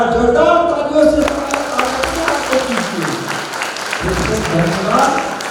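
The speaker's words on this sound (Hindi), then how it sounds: "जोरदार तालियों से" Applause from a temple congregation rises under a speaker's voice and music, scattered claps blending into a continuous patter of moderate loudness, with talk continuing over it.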